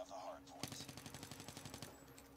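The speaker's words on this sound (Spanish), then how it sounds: "No sé quién está disparando." Rapid automatic gunfire in a Call of Duty Mobile match: a sudden burst of about fifteen evenly spaced shots, fairly faint and distant, following a quiet stretch with a steady background tone.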